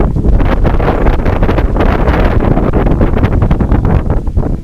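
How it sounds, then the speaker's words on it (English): Strong wind gusts batter the microphone on an open mesa, a loud continuous rumbling roar with fluttering buffeting throughout. "The wind today is outrageous"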